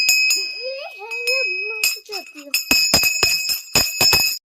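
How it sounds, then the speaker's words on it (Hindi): A large temple bell rings during an evening aarti, struck again and again in a fast, uneven series of bright metallic clangs with long ringing tones, loud and close, following a stretch of voices. "इतनी बड़ी घंटी है हमारी, हाथ थक जाते थे"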